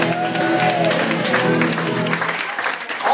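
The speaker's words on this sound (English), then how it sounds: "Everyone, please clap now for these nice ladies." Audience in a restaurant bar in The Villages applauding the waitresses, dense steady clapping from a small room close by, fading slightly toward the end.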